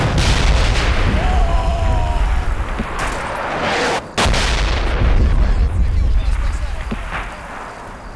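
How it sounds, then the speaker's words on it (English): Artillery barrage in the WWII strategy game Combat Mission: Red Thunder, with loud, dense, overlapping explosions and booming blasts hitting advancing infantry, broken by a brief pause before more rumbling impacts. "our advancing infantry falls squarely under a well-timed and exquisitely aimed artillery barrage"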